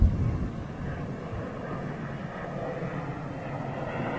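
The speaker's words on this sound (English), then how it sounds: "Oh, look at that, ATR 42." An ATR 42 turboprop airliner flies past at Heathrow, heard as a steady, moderately distant engine drone that holds evenly throughout without voices.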